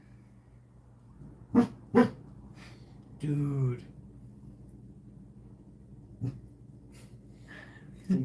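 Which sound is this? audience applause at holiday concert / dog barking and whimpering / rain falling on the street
dog barking and whimpering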